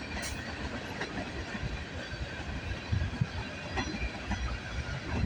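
A long CN freight train with 708 axles rumbles past close by in Milton, Ontario, a steady broadband roar with faint rhythmic clatter of wheels and a hiss of motion throughout.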